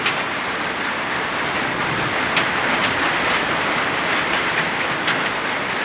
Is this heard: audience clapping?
no